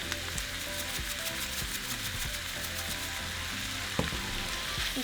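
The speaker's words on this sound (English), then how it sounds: "And our shrimp is going to cook very fast." Shrimp seasoned with black pepper and salt fries in a pan, giving a steady, dense sizzle with occasional soft clicks and one sharp tap near the end.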